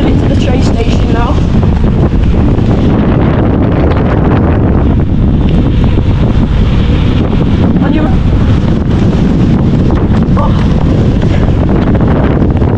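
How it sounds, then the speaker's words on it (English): Strong wind buffets the microphone outdoors in wet weather, a loud, continuous roaring rush that runs unbroken throughout. "Getting windy."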